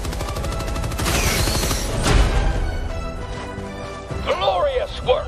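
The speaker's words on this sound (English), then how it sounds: "Give me the machine gun!" Machine gun fire in the shooter game Helldivers, a dense rapid burst that swells loud across the middle and tapers off, followed by a voice speaking over the fading shots.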